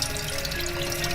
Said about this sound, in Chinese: 好的鲈鱼再清洗干净